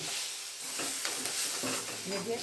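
Potato and pea samosa masala filling with mint and green coriander is stirred in a pan, a steady scraping, shuffling sizzle with soft clinks of the spoon, fairly close and continuous for the whole stretch.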